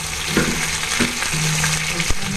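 Cumin seeds, bay leaves and dried chilies frying in hot oil, a steady close sizzle with a few scraping stirs and small pops.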